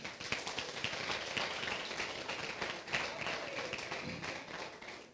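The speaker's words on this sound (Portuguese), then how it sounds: "aplauda o Senhor" Church congregation applauding during a Portuguese-language sermon, a continuous faint wash of many hands clapping, dense and even, with a voice faintly under it.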